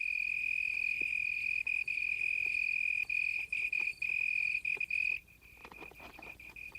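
A single cricket sings from a leaf on an African night, a loud, steady, high-pitched trill that breaks off into short gaps before stopping, leaving faint scattered clicks and taps.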